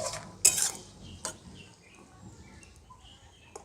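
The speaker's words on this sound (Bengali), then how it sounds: "এবার ঢাকা খুলে দেখে নেব গাজরটা সেদ্ধ হয়েছে কিনা" A metal lid is lifted off a pot of boiling carrots with a sharp clink, followed by a fainter second clink and soft kitchen rustling.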